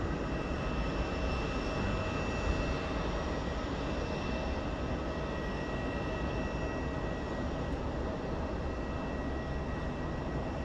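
Steady, loud roar of an AirAsia airplane at KLIA2 airport in Malaysia, a continuous broadband jet rumble that holds constant for the whole stretch, heard from a parking structure with no voices.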